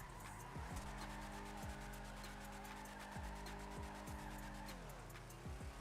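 A video-game car spins in tight donuts, its engine droning steadily while the tires squeal in repeated sweeping bursts, loud and continuous with no talk.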